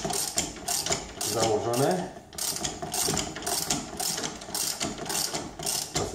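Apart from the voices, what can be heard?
ratchet wrench turning on Audi A3 brake line fitting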